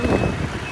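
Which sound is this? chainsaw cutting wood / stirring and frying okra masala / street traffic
street traffic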